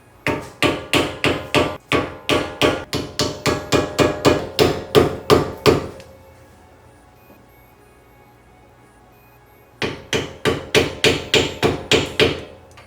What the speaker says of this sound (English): So we're gonna try to get our flathead up in here. Get our hammer.